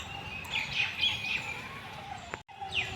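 Faint bird chirps repeat in a quiet, green outdoor spot in Delhi, a few short calls over a low background hum.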